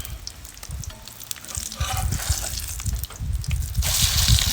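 Crappie fillets fry in a pan over a wood fire, a steady close sizzle with bubbling crackle and soft spatter, swelling louder toward the end with no one talking.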